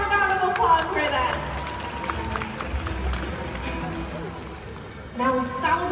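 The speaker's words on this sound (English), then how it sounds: "Let's give him one more round of applause for that." An audience at an outdoor birds-of-prey show applauds, a diffuse wash of clapping that swells near the start and again near the end.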